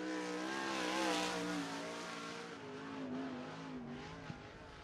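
A 360 sprint car engine roars steadily at high revs on a speedway track during qualifying, its rising and falling pitch sustained and fairly loud throughout with no talk.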